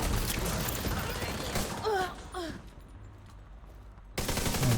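Video game gunfire: rapid automatic bursts and a few sharp shots, loud and dense at the start and again at the end, with a brief voice in the middle and a quieter stretch between.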